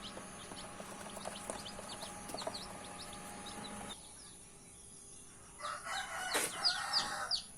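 Chickens and young chicks around a nest: frequent high peeping chirps from the chicks over a steady low hum, with louder clucking and calls building toward the end, fairly close.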